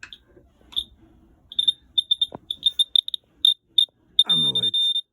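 An electronic buzzer on a continuity tester, wired to an oil pressure switch, sounds as a string of short high beeps that speed up into a longer stuttering run, with a brief voice near the end.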